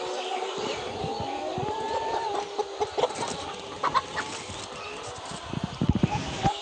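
A sick chicken with an eye problem clucks in short bursts near the listener, with scattered thumps and rustling amid a low background hum.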